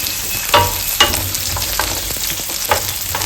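Garlic and pepper sautéing in hot oil for a seafood fideuà, a loud steady sizzle with occasional stirring scrapes and clanks of a utensil against the pan.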